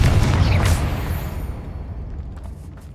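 Confringo blasting spell explodes in Hogwarts Legacy, a loud booming blast with deep rumble at the start that decays into a fading tail over a few seconds.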